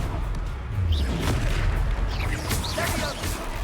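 Confringo fire spell blasts in Hogwarts Legacy, a series of dull booms and crackling bursts amid combat noise, moderately loud and overlapping, with faint shouted voices in the mix.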